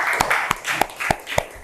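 Hands clap for a performer during a dance and culture teaching session. About five sharp, evenly spaced claps sound close and distinct over a murmur of background voices.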